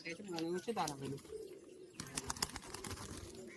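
Giribaz pigeons in Murshidabad coo in soft, low bursts, with someone talking over the first part and scattered clicks and rustles from the loft later on.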